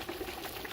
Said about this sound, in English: You'll hear the sound. Popping, bubbling.